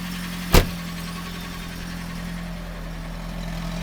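A 1990 Peugeot 309 with a 1294cc engine idles steadily after a cold start with the choke, a close, even mid-pitched rumble broken by one brief sharp knock early on.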